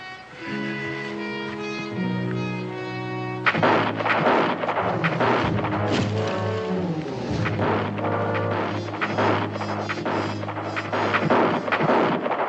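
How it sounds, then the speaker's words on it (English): Gunfire in a crossfire in a 1969 Western television drama, with dense rapid shots and booming reports layered over a sustained orchestral score, loud throughout with no talk. "That's shooting awful good for Indians"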